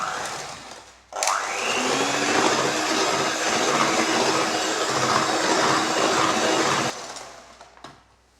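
An electric beater whips eggs with powdered sugar, switching on abruptly into a loud, steady high-pitched whirr that runs for several seconds before cutting off, close to the mic.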